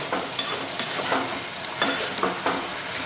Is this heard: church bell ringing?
no